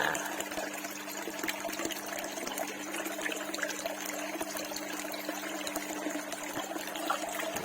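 Lionhead goldfish thrash in a breeding tank and splash the water, giving a steady wash of sloshing and trickling that runs unbroken, close and fairly quiet.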